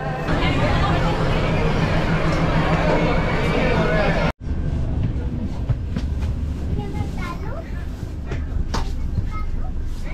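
A train at New Delhi railway station rumbles steadily amid platform crowd chatter, then the noise cuts abruptly and gives way to quieter interior carriage sounds with voices and occasional clanks.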